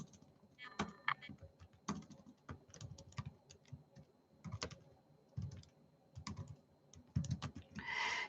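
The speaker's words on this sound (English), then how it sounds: "Let me just type for y'all." Typing on a computer keyboard comes through as uneven clusters of soft clicks and taps with short pauses between bursts, close and fairly quiet, with no speech.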